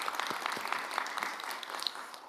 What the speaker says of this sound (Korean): 박수로 담아주시죠.